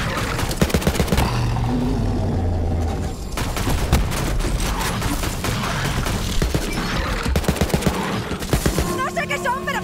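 Gunfire rattles in the video game Borderlands 3, dense overlapping bursts of shots with sharp impacts and a brief lull midway, loud and near, with some voices mixed in.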